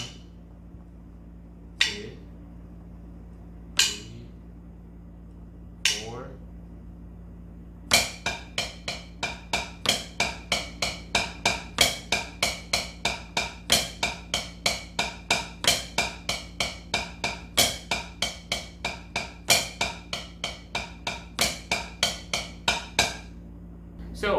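Crisp snare drum strokes playing the paradiddle-diddle rudiment: a few slow isolated hits, then a fast, steady stream of repeated sticking patterns with regular accents, played alone.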